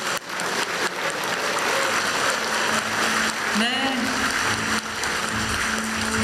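Audience applause following a presidential congratulatory speech at a Gwangju–Jeonnam special city celebration, a steady wash of many clapping hands filling the room, with a brief spoken word at the start.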